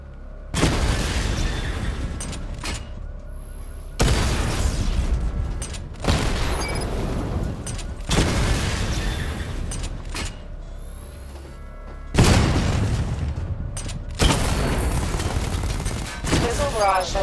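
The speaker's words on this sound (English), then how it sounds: "Charge the missile barrage to level 2 to destroy up to 4 targets at once." Repeated missile barrage explosions in Batman: Arkham Knight, with about six loud, booming bursts landing in separate blasts at a steady rhythm, each fading into a rumbling tail.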